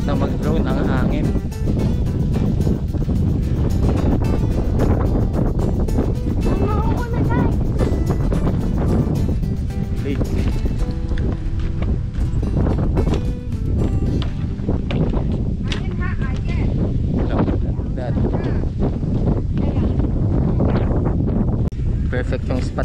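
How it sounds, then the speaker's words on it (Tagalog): Strong wind sweeping across a farm ridge in Pantabangan, Nueva Ecija, roaring and buffeting the microphone loudly and without pause, with voices talking underneath. "hindi tayo masyado nakapagpalipad ng drone kasi sobrang lakas ng hangin"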